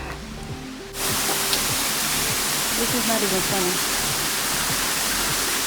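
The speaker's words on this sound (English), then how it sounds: "Apparently this is the waterfall." Steady broadband rush of a waterfall along a forest trail on Mount Takao, Japan, loud and continuous once it starts, with a person talking briefly over it.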